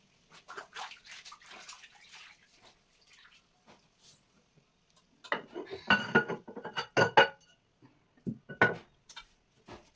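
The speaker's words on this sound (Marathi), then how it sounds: "आता ही पाणी मी झाडांना घालणार." Water is poured onto potted plants at home in short, intermittent splashes and trickles, with quiet gaps between pours and a few faint clinks of a vessel.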